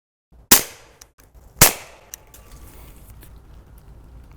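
A Hi-Point 9mm pistol fired through a Soundstrike Octane 45 suppressor gives two sharp, close, muffled reports about a second apart, each followed by a short ringing decay and faint clinks.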